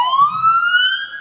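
Ambulance siren, loud and close, a single rising electronic wail that climbs steadily and sounds on its own.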